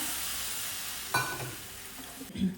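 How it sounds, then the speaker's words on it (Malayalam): Tamarind water poured into a hot, sizzling pan of sambar tempering: a steady frying hiss, then a sudden splash and louder bubbling surge about midway, with a second gurgling swell near the end. "അതിലേക്ക് നമ്മൾ പിഴിഞ്ഞു വെച്ച പുളിവെള്ളം ഒഴിച്ചു കൊടുക്കാം"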